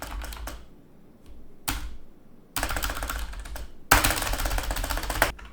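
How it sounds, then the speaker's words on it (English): A computer keyboard's spacebar is hammered repeatedly, fast rattling clicks that come in short bursts at first, then grow into two longer, dense, louder runs of rapid presses, close to the microphone. "as you can see by me spamming spacebar"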